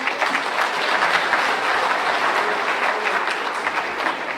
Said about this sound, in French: donc on peut les applaudir aussi